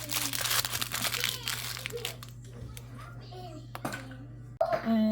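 Wrapping paper around homemade butter crinkles and crumples as it is folded up, in close, busy bursts that thin out and return, with voices, including a child's, in the background.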